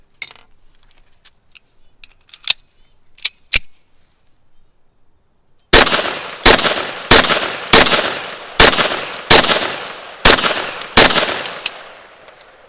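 A Rock Island Armory XT22 Pro .22 Magnum fires a rapid string of about ten sharp, loud gunshots at a steady rhythm, each with a short ringing tail, preceded by quieter metallic clicks and handling taps.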